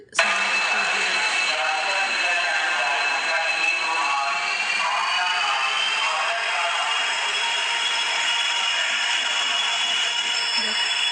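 A passenger train pulls into a station platform on a trip from Kolkata, giving a loud, steady rumble with a high metallic whine that holds for the whole stretch amid station ambience.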